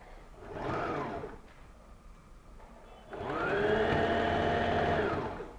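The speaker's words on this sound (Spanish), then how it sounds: "Nuevamente lo realizamos con una costura recta" A sewing machine running a straight seam on fabric for a handbag, heard as two separate bursts of motor whir, the second longer and louder, with quiet pauses between them.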